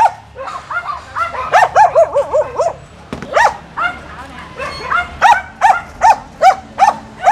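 A large dog at a vaccination lets out a long run of high yelps, whines and whimpers, close and loud, in quick bursts with short pauses between them.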